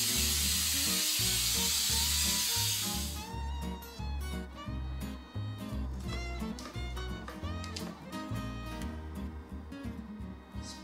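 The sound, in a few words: cooking spray on a baking sheet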